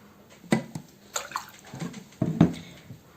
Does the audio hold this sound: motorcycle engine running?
no